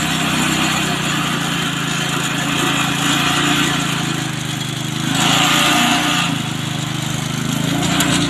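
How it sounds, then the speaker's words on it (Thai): A mini ride-on tractor powered by a 7.5 hp water pump engine pushes soil with its front blade, giving a steady, loud, buzzing small-engine drone that swells slightly midway and runs throughout with no talk. "ที่ท่านชมอยู่ในขณะนี้นะครับก็คือรถไถจิ๋วนะฮะทดสอบดันดินหน้านะครับ"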